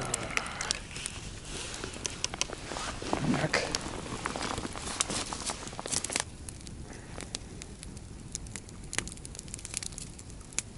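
A campfire burns in the taiga on a fishing trip, with irregular crackles and pops spread over steady soft hissing. The fire is close but fairly quiet, and a voice can be heard briefly in places.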